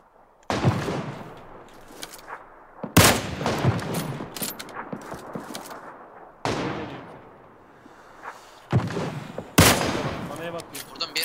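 Gunfire in the battle royale game PUBG Lite: five separate loud shots or short bursts spaced a few seconds apart, each a sharp crack with a fading echo. Someone speaks between them.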